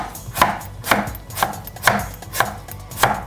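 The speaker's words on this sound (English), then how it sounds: "You're pretty good at chopping" A knife chops onion and tomato steadily on a cutting board, six sharp thuds in an even rhythm, close and clear with no talking.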